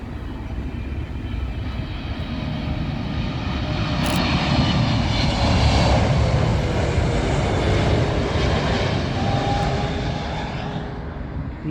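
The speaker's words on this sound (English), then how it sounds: "Up next, the big Saudia 777, and this one coming in for Rydia." A Saudia Boeing 777 airliner coming in to land at Heathrow Airport gives a broad, rushing jet roar that swells to a loud peak around the middle and then slowly fades, with no voices.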